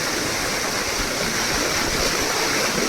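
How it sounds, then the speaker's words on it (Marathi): Water gushes hard from the outlet of a 3 HP solar-powered farm pump, a loud, continuous rushing roar like a small waterfall that holds steady from start to finish with no talking. "तर हे बघा किती जोरात पाणी मारते"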